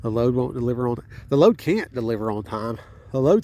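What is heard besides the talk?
No everyday noise stands out behind the speech.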